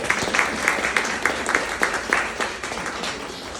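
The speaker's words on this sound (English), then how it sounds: "So will you give them a little wee round of applause?" An audience applauds a quality team in a room with steady, moderately loud clapping that holds for several seconds and then fades slightly toward the end.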